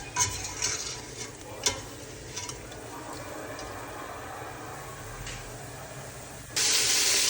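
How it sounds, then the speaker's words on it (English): Shredded venison sizzles and crackles frying in hot beef tallow, with scattered pops early on and a sudden louder burst of hissing near the end. "So while that's frying in batches"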